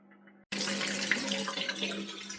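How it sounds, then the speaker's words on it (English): A bathroom tap opens abruptly after a quiet hum and then runs steadily, a full close rush of water into a sink, tested after a gas boiler diaphragm repair. "I'm sure you can tell by the sound of running water that we are back on."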